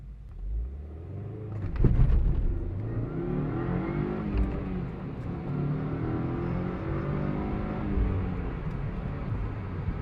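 A car launches from a standstill with traction control switched off, its engine revving hard and climbing steadily in pitch through the gears. The rumble stays loud and continuous for about eight seconds, with no talk.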